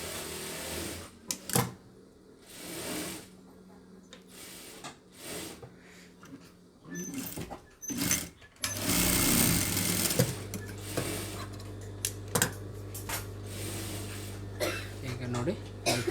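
A sewing machine stitching piping onto a blouse, running in short bursts and then a longer steady whirring stretch, close by, with someone talking in between.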